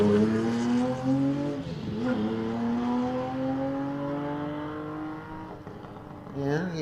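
A supercharged Leyland Mini Clubman race car screams through a sprint at a historic hillclimb, its engine note climbing steadily in pitch, then briefly dipping and recovering, loud and close with commentary voices partly over it.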